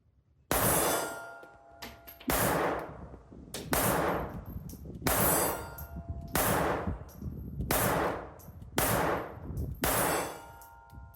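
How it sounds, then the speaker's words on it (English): Six loud pistol shots from a vz.24 fired at an outdoor range, each a sharp crack with a ringing decay, spaced about every one and a half seconds. "With this new firing pin, I'm basically shooting this pistol for the first time."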